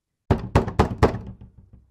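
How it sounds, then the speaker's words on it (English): Four firm, evenly spaced knocks on a door, a radio-drama sound effect for Macbeth, sound close and hollow, followed by a few fainter trailing taps before silence. "I hear a knocking at the south entry."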